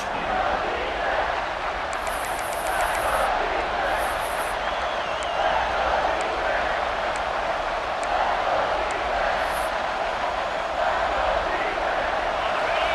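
A stadium crowd roars in the video game EA Sports College Football 26 during a third-down red zone play, a loud, dense, continuous wall of cheering with whistle-like bursts and steady rumble throughout.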